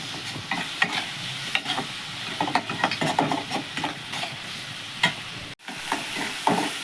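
Spice paste with chopped tomato and salt sautés in a pan: a low sizzle under repeated scraping stirs in an irregular rhythm, with a brief silence near the end before the stirring resumes.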